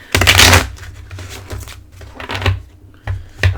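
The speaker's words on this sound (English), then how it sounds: "I will shuffle them once for your viewing pleasure." Quick riffling bursts of a deck of oracle cards being shuffled up close, a long flurry followed by several shorter snaps.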